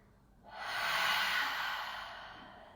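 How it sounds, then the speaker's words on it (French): A slow, close breath during a seated chair-yoga breathing exercise, in through the nose and out through the mouth, heard as one long soft airy rush that swells and fades, with no talking. "On inspire par le nez, expire par la bouche"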